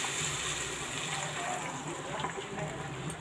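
Water is poured into a pot of fish curry seasoned with salt, giving a soft, steady gushing wash that stays faint and continuous.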